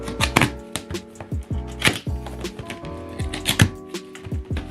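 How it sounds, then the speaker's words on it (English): Trusty X-Acto knife slicing through plastic packaging straps on a suspension shipment box, a quick series of sharp clicks and snaps close by, with short pauses between cuts. "Got our trusty X-Acto knife, so we'll start off by cutting the straps."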